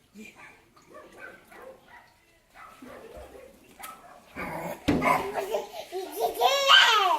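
Dogs bark in bursts toward the end, loud and close, overlapping excited talk and a small child's babbling and laughter from earlier on.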